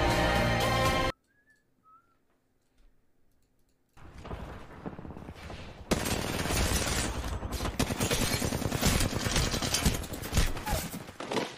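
Apex Legends gunfire bursts loud and sustained after a short near-silent gap with faint whistles, rapid shots rattling continuously over busy game noise.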